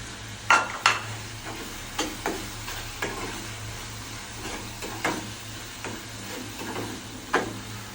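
A paste of nuts, green chilli and raisins fries in a pan for egg korma while a spatula stirs it. Soft sizzling runs underneath, broken by sharp scraping clicks at irregular intervals.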